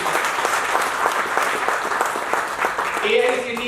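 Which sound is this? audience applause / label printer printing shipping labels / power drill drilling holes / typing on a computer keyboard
audience applause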